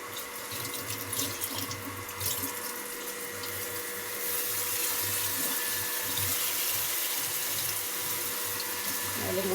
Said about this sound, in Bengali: সামান্য একটু পানি অ্যাড করবো।